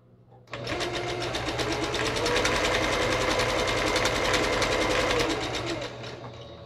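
A sewing machine chain piecing quilt blocks runs steadily in one continuous close, loud whir after a quiet start, winding down slightly at the end.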